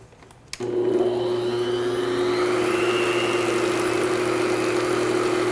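Electric mixer running at medium speed while mixing flour into zucchini bread dough: a steady whirring motor hum that starts abruptly and holds constant, with no talking.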